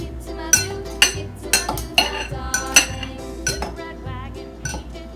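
A spoon clinks and scrapes around a bowl as crumble topping for blueberry muffins is mixed, a close, repeated rhythm of bright taps and short scrapes with no talking.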